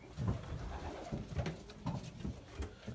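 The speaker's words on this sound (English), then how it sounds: "so we've got the cock birds in here" Several male racing pigeons coo softly in a loft, low rolling calls overlapping in an irregular rhythm.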